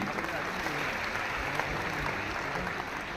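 Steady, dense applause from an audience at a Delhi ceremony where nursing officers receive appointment letters. The applause welcomes a nursing officer from Lok Nayak Hospital and continues evenly throughout at moderate loudness.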